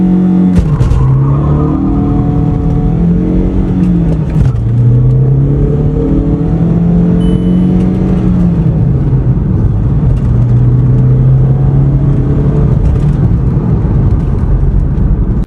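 Hyundai Verna 1.6 and Volkswagen Polo 1.5 launch in a drag race with close, loud engine revving. Rising and falling pitch sweeps come through gear changes, with a brief tire squeal near the start.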